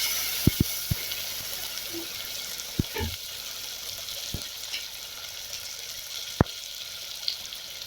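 Onions and tomatoes sauté in a clay pot, making a soft, low sizzle. Sharp utensil clacks against the pot break through it now and then, and nobody speaks.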